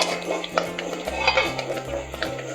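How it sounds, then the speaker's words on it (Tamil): A beetroot laddoo mixture is stirred in a pan, with soft scraping of a spoon against metal and faint clinks over a low background hum, close up and without talk. "இதில் நமக்கு வேலையே பார்த்திங்கன்னா கைவிடாமல் கிண்டணும்."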